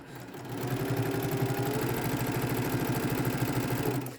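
A sewing machine stitches steadily through fabric, its needle chattering in a fast, even mechanical rhythm close up, running continuously with a soft motor whir underneath.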